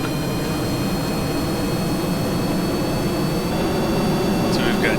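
Jet engines of a triple-cockpit spaceplane in Kerbal Space Program roar steadily and loudly while it sits on the runway for launch, a constant broadband rumble with a faint high whine running through it.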